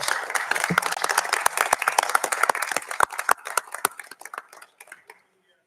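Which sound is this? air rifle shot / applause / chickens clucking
applause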